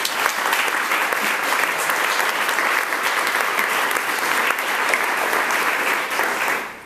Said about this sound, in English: Let's have a round of applause for Angelica Ross.